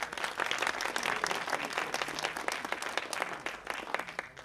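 An outdoor audience at a Memorial Day ceremony applauds a veteran, with steady, fairly dense clapping from many people running throughout.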